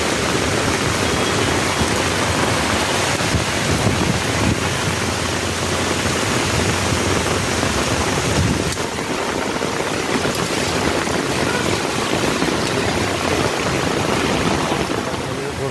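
Heavy rain pours down outdoors in a steady, loud, dense hiss that fills the whole stretch, with a slight dip and rougher texture partway through as the downpour continues unbroken.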